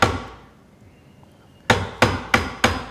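A hammer strikes a Marples splitproof chisel into wood with four sharp, evenly spaced knocks near the end, following a single ringing blow at the start. The knocks are close and distinct against a quiet room, with no talk.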